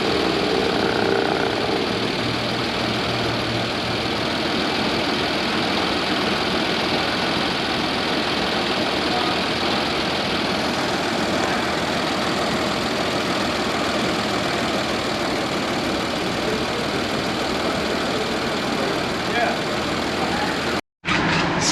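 A Nissan Pathfinder idling with its AC compressor running during condenser replacement work, a steady, loud, even engine drone that continues unbroken, with a momentary dropout just before the end.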